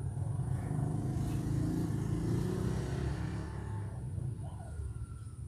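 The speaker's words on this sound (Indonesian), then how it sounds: "di sini berisik karena di pinggir jalan. Banyak suara motor." Motorcycle engines rumble and drone along a roadside, with a steady close hum that swells briefly, then eases as traffic passes, and no voices over it.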